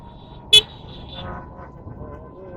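A short, sharp car horn toot sounds once on a road, loud over low traffic rumble and background noise.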